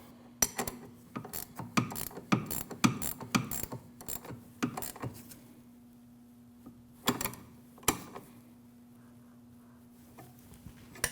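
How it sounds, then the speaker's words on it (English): A 14mm wrench tightens a nut on a rear sway bar link of a 2012-2016 Honda CR-V, giving bursts of rapid ratcheting clicks and metallic taps, then a quiet stretch and a few more isolated clicks. "you can just put a 14mm wrench on that while you're tightening your nut"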